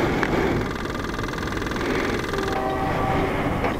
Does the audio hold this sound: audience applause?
no